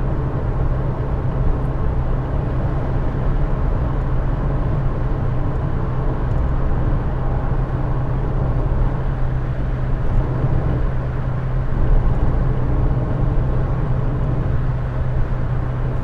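An Austin Metro cruising at motorway speed, cabin filled with a steady, loud broadband drone of engine, tyre and wind noise with a low hum, unbroken and without talk.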